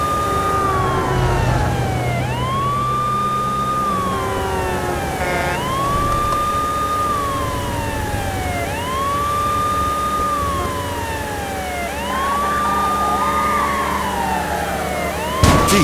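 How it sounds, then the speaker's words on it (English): A police car siren from the True Crime: New York City game on PS2 wails steadily in repeating rising and falling sweeps over engine and traffic noise, loud and continuous throughout. "How about using that siren,"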